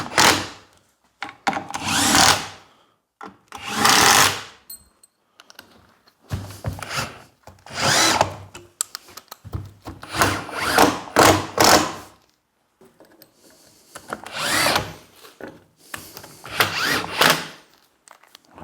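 Power drill driving large fixings into wood during a loft bed and storage build in a garden room: repeated loud bursts of whirring, several seconds each, separated by short pauses and occasional knocks, close by with no talking.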